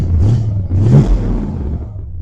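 A 1974 Plymouth Scamp with a four-speed and 2.5-inch exhaust through Flowmaster Super 10 mufflers revs twice in quick succession, then settles into a loud, deep, steady rumble up close.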